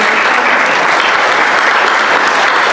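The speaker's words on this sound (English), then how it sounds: "Let's have a round of applause for our firefighters." Steady, loud applause from a crowd at a fire district annual meeting fills the whole stretch, dense clapping without pause or voices.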